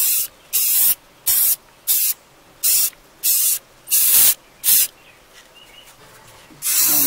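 Silver spray paint is applied in coats to a picture frame, with seven short, evenly spaced aerosol bursts close by, a pause, then another long hiss beginning.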